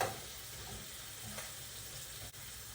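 Shrimp sizzle steadily in a frying pan, a continuous close crackling hiss with faint stirring, no voices.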